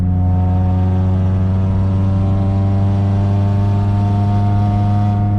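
An Acura RSX with a poor-sounding exhaust drives along, its engine giving a steady droning hum with strong low tones that holds a constant pitch, close and loud with no voices.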